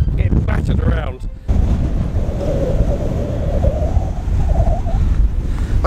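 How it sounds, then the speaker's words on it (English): Strong wind on an exposed hilltop buffets the microphone in loud, continuous low rumbling gusts, with a brief dip in the blast near the start before it surges back and holds steady. "It's so windy, I'm struggling to hold the camera, getting battered around."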